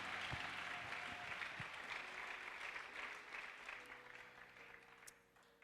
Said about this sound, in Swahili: Hebu tumchapie Bwana makofi na vigelegele.